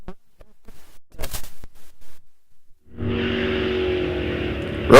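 Drag racing car at Rock Falls Raceway launching hard, a loud sustained roar swelling from about three seconds on after a few quiet knocks and a brief burst of noise.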